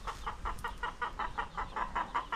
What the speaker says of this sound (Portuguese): as galinhas onde eu cavoquei. Estão ciscando.